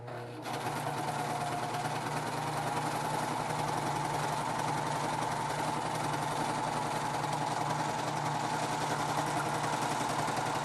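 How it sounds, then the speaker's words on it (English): Sewing machine stitching along the side of a fabric mask, running continuously at a steady, even hum with a fast mechanical needle rhythm, close and unbroken from start to finish. "I'm going to sew the other side."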